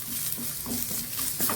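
Grated coconut is stirred and fried in a pan, with a soft steady sizzle under light scraping strokes of a spoon, close and fairly quiet.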